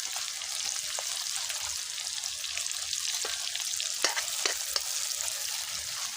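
Onions fry to golden in hot oil in a home kitchen pan, giving a steady close sizzle with a few sharp clinks and scrapes of a spatula stirring.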